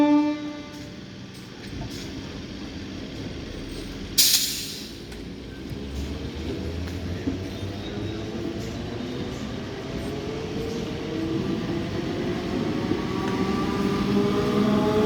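A Down Bandel–Naihati local train rumbles past Hooghly Ghat railway station steadily, a broad continuous roar with rising and falling tones, and a brief sharp burst early on.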